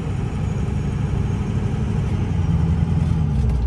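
A 2004 Ford F-350 Lariat 4WD with the 6.0L Powerstroke diesel and a 5-inch downpipe exhaust runs nearby, a steady deep rumbling idle that holds even and close for the whole stretch.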